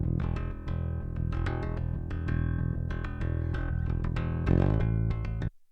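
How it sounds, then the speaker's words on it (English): Bass guitar recorded as a straight DI track with no processing, a clean, dry run of plucked notes in quick rhythmic phrases, close and full, stopping abruptly at the end. "these are straight DI tracks, so they sound like this without anything on"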